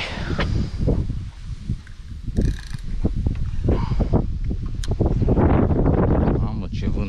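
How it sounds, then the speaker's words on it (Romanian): Strong wind buffets the microphone while out on the water fishing for catfish, a loud continuous roar with gusting bursts and rustling throughout. "ce vânt bate"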